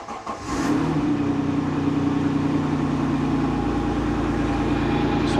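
A Citroen XM 3.0 24V engine cranks briefly, catches and settles into a steady, close, even idle hum that holds without pause.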